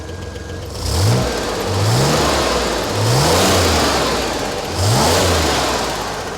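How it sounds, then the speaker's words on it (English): A 1963 Chevrolet Corvair Monza's air-cooled flat-six engine idles and is revved four times in a row, each rev a quick rising roar that drops back to idle. "Can you give it a bit of a rev as well?"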